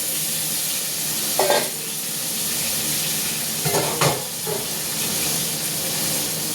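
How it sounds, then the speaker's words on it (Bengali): Steady sizzle of pointed gourd slices frying in oil, broken by a few clattering scrapes of a spatula stirring the pan. "পটল কেটে রেখেছি, পটলটা ভাজবো।"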